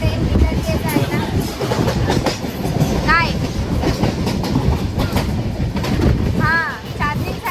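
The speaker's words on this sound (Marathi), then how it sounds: "सो फायनली ट्रेन निघते जायला." A passenger train rolls along the rails from inside a carriage, with a continuous loud rumble and rhythmic clatter while people talk and voices rise over it now and then.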